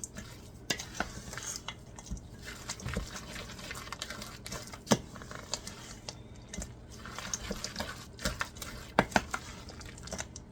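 A spoon stirs and scrapes a thick dough of peanut butter, chocolate and oatmeal in a bowl for a ration bar, making soft, quiet, irregular sticky squelches and occasional sharp clinks against the dish.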